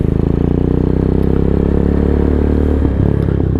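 A Venom X22R motorcycle, recently given a valve lash adjustment, rumbles and clatters close by on a night ride, its engine a steady, loud mid-pitched beat with light rattling toward the end.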